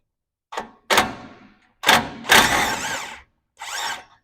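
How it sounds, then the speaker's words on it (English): A socket wrench with an extension loosens a 17mm nut from underneath a 2024 Toyota Land Cruiser 79 Series front bar: a handful of close, loud ratcheting bursts separated by short silences, with no talk. "from underneath, you're going to loosen off this nut, also 17mm"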